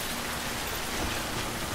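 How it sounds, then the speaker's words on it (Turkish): Heavy rain in the video game Death Stranding, a dense constant hiss of downpour on surfaces, loud and unbroken through the short stretch. "Lan deli yağmur yağıyor ya."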